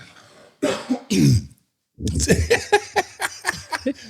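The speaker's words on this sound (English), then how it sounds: "I got a cough" A person coughs and clears their throat a couple of times nearby, pauses briefly in silence, then starts talking.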